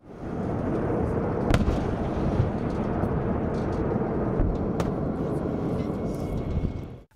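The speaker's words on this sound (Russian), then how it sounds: "по которому был нанесен удар реактивными системами залпового огня «Град»" Grad multiple rocket launchers firing during a military exercise, a continuous roaring rush with sharp cracks of individual launches, heard from a distance.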